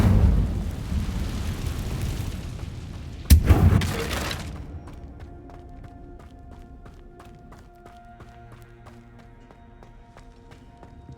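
An Incendio fire spell cast in the Hogwarts Legacy video game gives a sudden whooshing burst of flame that roars for about a second, then fades into quiet ambient game tones.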